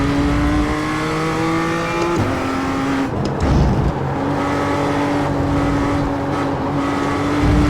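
The BMW M2 CS race car engine in the iRacing simulator at Laguna Seca drones loudly, rising through revs, dropping on gear changes and lifts, then climbing again.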